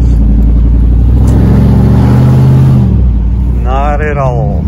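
A pickup truck with its catalytic converters removed drones loudly and steadily, its open exhaust rumbling and swelling as the engine pulls, with a voice briefly heard near the end.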